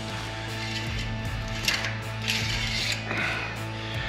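A dipstick slid back into the oil pan of a Jeep Gladiator, heard as a few short metallic scrapes and clicks over a steady, close mechanical hum.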